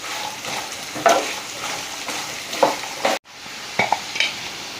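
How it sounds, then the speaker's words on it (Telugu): Diced beetroot fries in a pan with a soft steady sizzle while a spatula scrapes and stirs it in several distinct strokes, with a brief pause near the end before stirring resumes. "ఇలా వేపుకుంటే బీట్రూట్ బాగుంటుందండి."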